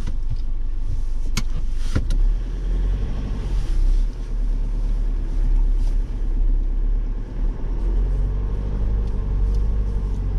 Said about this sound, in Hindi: ये 3 मिनट हो गए हमें गाड़ी चलाते चलाते ऊपर की तरफ